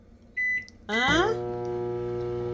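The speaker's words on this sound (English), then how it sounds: "so you can just microwave this for a minute." Short electronic beeps sound, then a microwave oven starts with a mechanical clunk and settles into a steady humming drone while heating a pogo corn dog.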